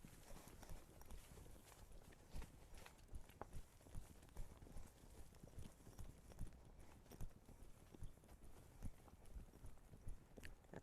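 A horse trotting on a loose rein, with steady rhythmic clip-clop hoofbeats repeating evenly throughout, faint and at a moderate distance.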